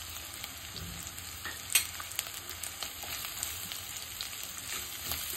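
Turmeric and homemade Koli masala paste sauté in hot oil over ginger-garlic paste, giving a soft, steady sizzle with a few sharp clinks of a spoon against the pan.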